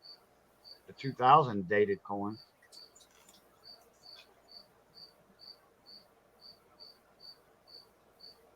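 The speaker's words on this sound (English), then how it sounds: "I hear some crickets in the background." Crickets chirp faintly and steadily in the background, short regular pulses about every half second running throughout, with someone briefly talking near the start.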